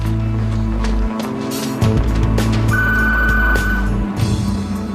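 A telephone rings in a home in a legal and family drama, with a repeating electronic ring heard near and fairly loud over low background hum and movement.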